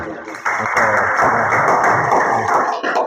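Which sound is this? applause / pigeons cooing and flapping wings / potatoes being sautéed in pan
applause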